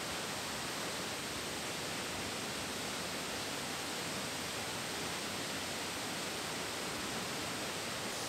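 Milla Falls, a waterfall on the Atherton Tablelands in Australia, roars as a dense, steady, broadband rush of falling water, loud and close, unchanging throughout with no voices.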